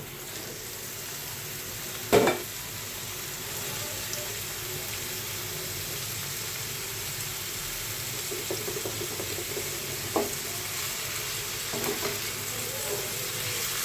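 Potatoes fry in a pan for an aloo chorchori with onions, a continuous bright sizzle and hiss with occasional knocks and scrapes as they are stirred, fairly close.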